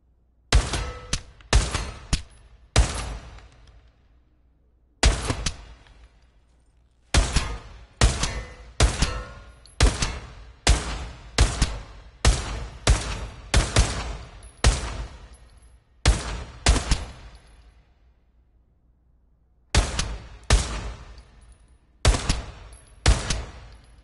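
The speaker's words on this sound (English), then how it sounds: "Shoot all the targets to continue." Gunfire at targets in a first-person shooter game tutorial: sharp, loud single shots and quick bursts arriving in clusters, separated by short silent gaps, with no talking.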